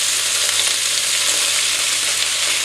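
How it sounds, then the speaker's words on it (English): Pancetta sizzles loudly in a very hot wok, a dense, steady crackling hiss with no pauses. "You hear that sizzle?"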